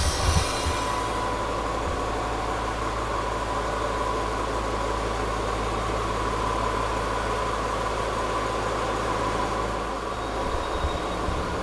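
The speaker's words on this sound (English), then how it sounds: "narrow gauge railroad that is part of public transport." A narrow-gauge train between Aveiro and Águeda, Portugal, runs steadily with a constant low engine rumble and rattling of cars, loud and continuous with no talking.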